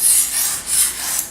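A knife is drawn lightly across a fine sharpening stone, producing a few close, soft rhythmic scraping strokes in quick succession with no voices.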